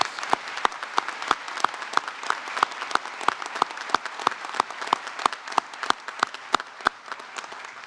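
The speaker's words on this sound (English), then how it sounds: "Let's applaud all of our student athletes for their commitment to our core values." Thin, sparse applause for student athletes at a university commencement: quiet, evenly spaced claps, as from only a few people, repeat steadily in the distance.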